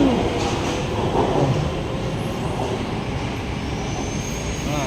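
A BTS Skytrain on the Samut Prakan–Bangkok line arriving at a station, giving a steady, loud rumble of rail cars with faint high wheel squeal near the end and no talk.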